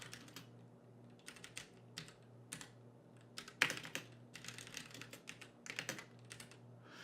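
Code being typed on a computer keyboard, with a steady run of quick, crisp key clicks in irregular bursts, close but quiet over a faint electrical hum, no talking.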